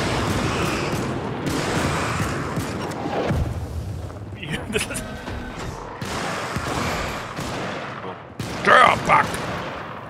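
Gunfire from the Helldivers video game, dense bursts of shots running continuously under a German-speaking player's voice, with a brief louder crack near the end.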